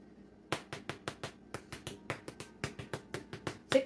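Freshly baked whole wheat walnut bread straight from the oven is tapped on its crust in a quick irregular series of about twenty sharp, hollow knocks, close and fairly faint, with no talking.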